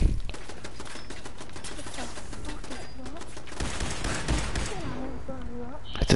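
Automated turret gunfire rattles in Fallout 4 as rapid, sustained bursts over a busy game soundscape, with a voice briefly talking over the shooting.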